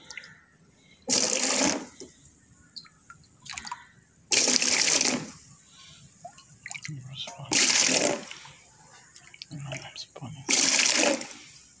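Water is poured off the top of a batch of kushta fauladi (iron calx) in four short, splashing bursts about a second each, separated by quieter moments with faint voices and kitchen sounds.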